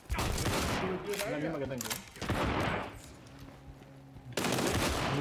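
Shotgun blasts in the shooter game WW3 come as three loud, heavy bursts spaced a second or two apart, with someone talking between the shots.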